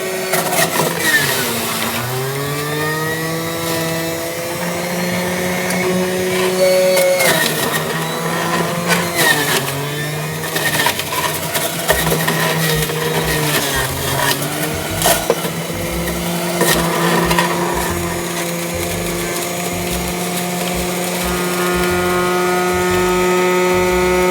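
An electric juicer juicing cucumber: a loud, close motor whine that shifts in pitch as the cucumber is pushed in, then settles into a steady hum with some rattling, running throughout and never interrupted by talk.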